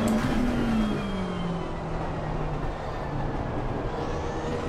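A McLaren race car in a sim racing game at the Valencia circuit holds a steady, loud engine drone throughout, with a tone that dips slightly as if shifting or easing off, and no voices over it.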